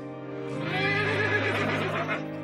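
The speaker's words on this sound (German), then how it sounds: "Das Pferd begann Laute von sich zu geben, als ob es um den Verstorbenen weinen würde." A horse at a funeral gives a long, loud quavering whinny that swells and trembles for about two seconds, close and alone with no talk.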